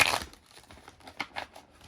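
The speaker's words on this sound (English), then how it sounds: "let me actually shuffle these correctly" Tarot cards are shuffled by hand, giving a sharp riffling burst followed by a few softer crinkly shuffles and flicks, close up with no talking.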